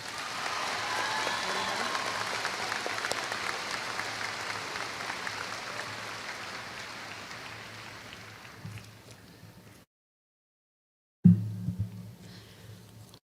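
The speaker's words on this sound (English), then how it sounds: "Let's give them a round of applause." A crowd applauds steadily for several seconds at a high school commencement ceremony, the clapping gradually fading away, then a brief clunk and rustle after a pause.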